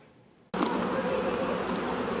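Dense buzzing of many honeybees at hives at Subway World Headquarters in Milford starts abruptly and then drones on steadily, close and loud.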